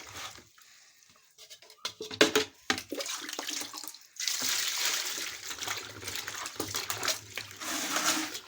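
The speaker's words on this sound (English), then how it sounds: "Now I'll be washing the yam." Yams being washed in water, with steady splashing and sloshing that starts sparse and grows into continuous close washing noise in the second half.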